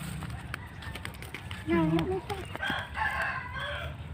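A rooster crows loudly nearby, a clear rising and falling call, with a second crow partly overlapping amid background chatter.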